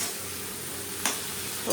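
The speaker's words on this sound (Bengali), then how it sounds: "একটু ভাজতে হবে ভালো করে" Flat beans fry in a pan with salt and turmeric, giving a steady close sizzle broken by two brief scraping strokes of a spatula near the end.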